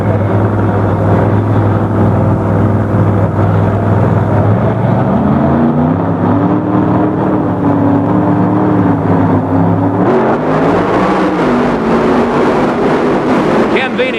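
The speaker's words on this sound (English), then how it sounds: "It's heads-up racing between the two Double B funny cars in the finals of Pro Comp Eliminator." Two Double B funny cars race heads-up in the Pro Comp Eliminator final at a 1970s drag strip, their engines producing a loud, sustained roar with a shift in pitch partway through, steady and dense throughout.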